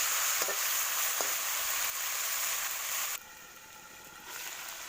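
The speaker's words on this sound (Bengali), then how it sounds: "মাংসটাকে আমি ভেজে দিলাম" Marinated meat frying in a pan for a home-style curry, with a steady bright sizzle, a couple of stirring knocks and a sudden drop to a quieter hiss partway through.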